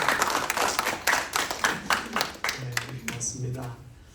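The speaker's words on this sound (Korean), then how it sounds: "수고하신 우리 성도님들께도 다시 한번 감사의 박수 하겠습니다." Church congregation clapping in thanks, with strong rhythmic claps in unison for a couple of seconds that thin out, then a voice speaks as the applause fades.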